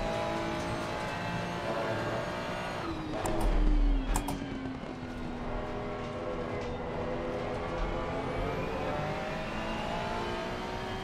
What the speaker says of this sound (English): Hear the turbo whistling slightly.